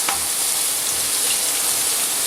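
Chopped shallots and lardons sizzle steadily in a hot pan, a dense, even crackle held at close range for a couple of seconds with no voices over it.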